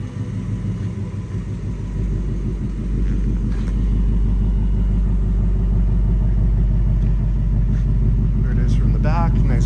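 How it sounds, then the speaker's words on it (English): A 2019 Ford Mustang Bullitt with active exhaust and six-speed manual idles with a deep, steady low rumble, loud and close, growing fuller after the first few seconds while someone talks over it. "Great sound to it, I love the rumble."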